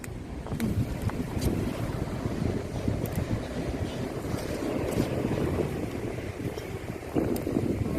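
Wind blows steadily outdoors in rural Thailand, a loud, continuous rushing roar that buffets the microphone without letup.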